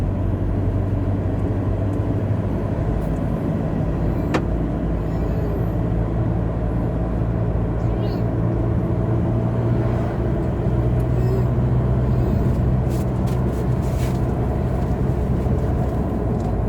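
A Toyota Revo pickup loaded with 2 tons of palm drives along in fifth gear, producing a steady, continuous engine and road rumble from inside the cab, even and unbroken.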